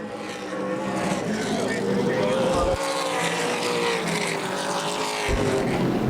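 ARCA/CRA Super Series race car on the Shady Bowl Speedway oval, a loud engine roar passing close by with a rough, uneven note, heard under a commentator's talk.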